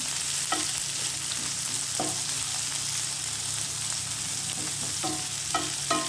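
Onions and brinjal being sautéed in a pan for a brinjal stir-fry: a steady close sizzle throughout, with occasional scrapes and knocks of a spoon stirring, no voices.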